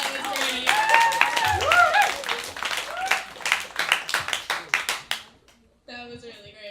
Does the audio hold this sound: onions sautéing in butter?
no